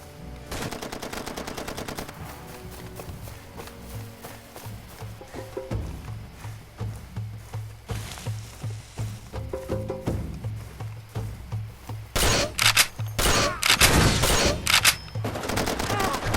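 Rapid bursts of automatic gunfire and scattered shots crackle through a Far Cry 2 firefight, mostly distant at first and then growing louder and denser toward the end, with no talk over it.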